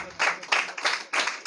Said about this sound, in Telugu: ఇప్పుడు చప్పట్లు కొట్టి గట్టిగా మా దేవుని మహిమపరచు.